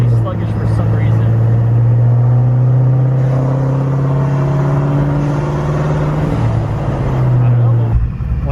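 Boosted Ford Mustang GT driving, heard from inside the car as a loud, continuous low engine drone with steady road rumble, pitch holding then briefly shifting, with a voice speaking over it.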